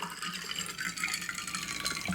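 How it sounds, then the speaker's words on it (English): A drink pours into a glass, a steady hissing, splashing liquid stream that runs continuously for a couple of seconds, close up, with no talking. "So I'm gonna put my drink in this glass."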